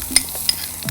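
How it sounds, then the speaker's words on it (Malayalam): Small shallots dropped into hot oil with mustard seeds, giving a quick sizzle and stirring scrape with two sharp clicks in one brief burst, near and fairly loud. "ഇതിനകത്തോട്ട് ചെറിയ ഉള്ളി ഇട്ട്"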